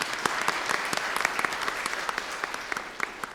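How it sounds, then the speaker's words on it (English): A room full of people at a panel event on music video as Black art gives a steady round of applause, a dense, even patter of many hands with a few sharper individual claps standing out near the front. "So a round of applause for everyone again"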